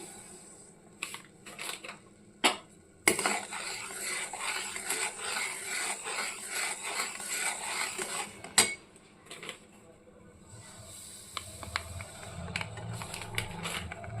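A spoon scrapes and clinks against a pan as semolina is stirred in gradually, with a steady close scraping texture broken by a few sharp metallic knocks.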